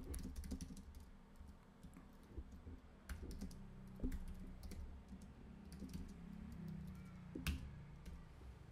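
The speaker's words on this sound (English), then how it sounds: "I just want to go in there and I want to start typing" Quick, irregular clicking of keys on a computer keyboard, close and fairly quiet, with brief pauses between bursts.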